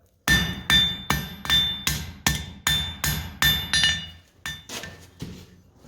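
A hammer forges hot tool steel at a blacksmithing demonstration, striking about a dozen sharp, ringing blows in a steady rhythm, each with a bright metallic ring. A few softer, quicker taps follow near the end.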